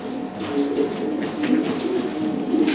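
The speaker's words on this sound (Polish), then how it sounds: "Prezentuję gołębia o numerze 190." Low, soft coos from a male pigeon repeat steadily over a dense, noisy background of rustling and ambient hiss.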